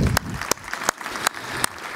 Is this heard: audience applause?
yes